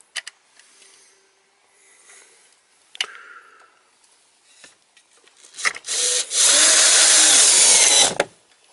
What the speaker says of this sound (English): and then drill.